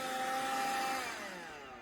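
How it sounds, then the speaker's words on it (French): A Kärcher WV 2 Plus N battery window vacuum runs with a steady, close whirring suction tone that holds and then winds down slightly toward the end, with no talking. "Ça fait un petit bruit d'aspirateur."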